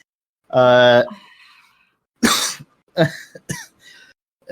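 A person clears their throat with a rough, raspy cough, followed by a few short, close-up throat sounds and brief vocal noises.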